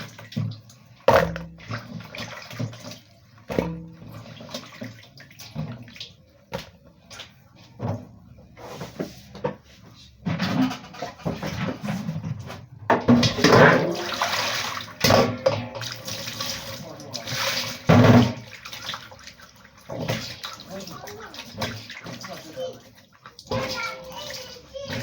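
Water poured into a pot to rinse diced unripe plantain, with splashing and sloshing bursts that swell in the middle, kitchen clatter and a voice talking intermittently over it.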